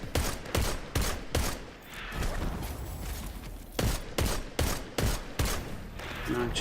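Rapid automatic gunfire in the video game Destiny 2, with several quick bursts of sharp shots separated by short pauses, loud against a busy game backdrop.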